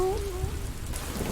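Cartoon rainstorm with a steady, fairly loud patter of rain and a low rumble of thunder underneath. A brief high tone gliding downward opens the clip.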